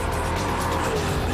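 An Audi R8 at top speed on a race track's back straight, a steady loud engine roar with rushing wind and tyre noise, sustained without a break.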